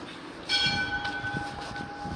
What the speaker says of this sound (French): Ah, des cloches.